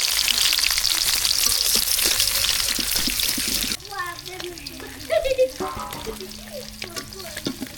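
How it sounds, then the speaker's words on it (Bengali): Fish sizzles loudly in hot oil in a village kitchen, a dense crackling hiss for several seconds, then cuts to quieter scattered clinks and splutters. "এই মাছ ভাজা হয়ে গেছে,"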